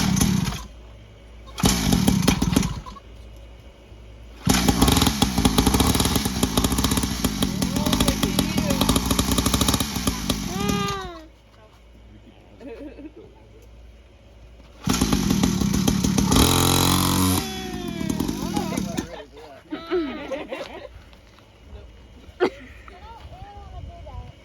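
A small dirt bike engine revs in loud bursts separated by quieter idling stretches, with people talking nearby between the revs.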